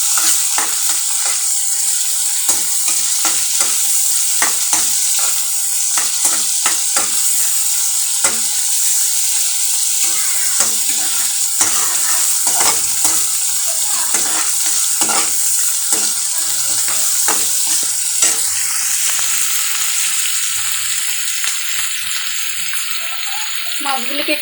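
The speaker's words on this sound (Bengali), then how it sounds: "মাছগুলোকে একটু ভেজে আমি মশলা অ্যাড করব।" Prawns fry in a pan with a loud, constant sizzle, broken by frequent scraping and clattering as they are stirred and turned.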